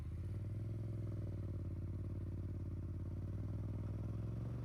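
A Yamaha MT-07 motorcycle engine holds a steady, low, throbbing drone at mid-range revs while riding in second gear, even and continuous with no clear break for the gear change.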